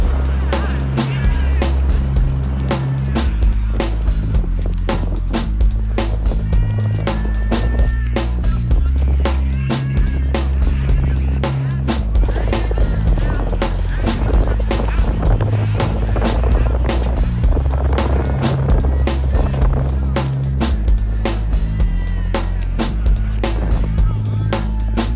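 Strong wind roars and buffets steadily and loudly on a bicycle ride in Las Vegas, with heavy low rumble and constant gusting noise throughout, and a voice occasionally faint underneath.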